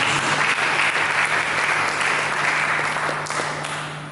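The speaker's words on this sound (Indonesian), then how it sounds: "Dengan tepuk tangan kepada Yesus Kristus." A church congregation breaks into loud, sustained applause during a sermon, a dense wash of clapping that gradually thins toward the end.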